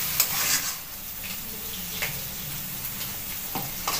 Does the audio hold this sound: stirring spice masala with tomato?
yes